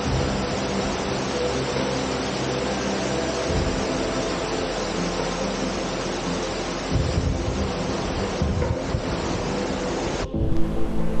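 Linhope Spout waterfall in Northumberland pours with a steady, full roar of rushing water close by, with some low rumble underneath and a brief shift in tone near the end.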